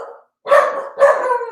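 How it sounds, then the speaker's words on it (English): Several dogs barking indoors, two loud close bursts of barking separated by a brief pause, with a fainter bark just before. "No, all of them are barking."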